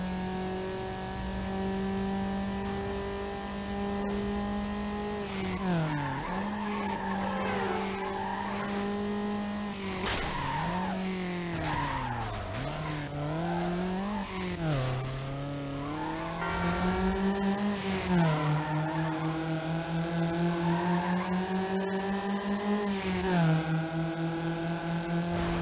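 In the Need for Speed Underground video game, a race car drives hard and skids through turns. A constant engine drone rises and falls with revving, and repeated tire squeals and skids cut in over it for the whole stretch.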